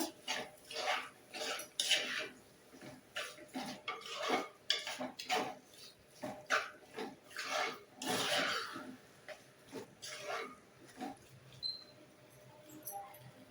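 Squid masala is stirred in a cooking pan, producing a steady run of scraping and clinking utensil strokes against the metal. The strokes are close and moderately loud, irregular, and continue throughout with no one talking.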